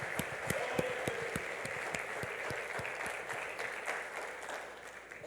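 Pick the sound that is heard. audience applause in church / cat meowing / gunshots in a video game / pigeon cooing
audience applause in church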